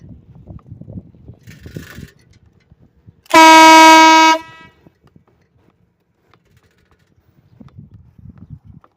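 A new air horn gives one long, loud, brassy honk of about a second, standing alone beside a train track between stretches of faint background rustle.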